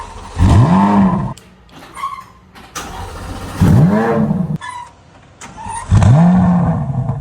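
Three loud, close rising squeals from the exhaust valve of a 2023 Corvette Z06, each a sweeping tone that climbs in pitch, separated by short pauses with quieter engine noise between.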